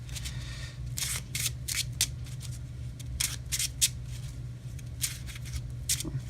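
A deck of playing cards for a Yu-Gi-Oh Iron Draw test hand is shuffled by hand, giving sharp, irregular riffling bursts close by over a low steady hum.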